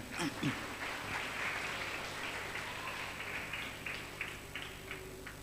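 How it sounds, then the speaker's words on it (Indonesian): A crowd applauds steadily at an Islamic boarding school speech event, a dense patter of clapping hands that holds for several seconds with a faint voice at the start. "Tepuk tangan buat mereka."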